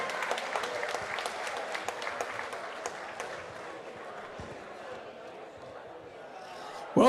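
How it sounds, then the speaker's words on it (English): Crowd at a live boxing night clapping in a big venue: crisp, busy applause at first that gradually thins into a broad murmur of crowd noise, with a sudden loud burst right at the end. "Let's give them all a big round of applause."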